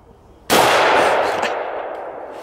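Shotgun firing a 3-inch shell during a squirrel hunt: one sudden loud outdoor blast with a long fading tail and no talk.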